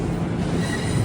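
An LIRR M7 train rumbles at Penn Station in New York, a loud, close, steady roar of rail noise with wheel hiss, alone without talk.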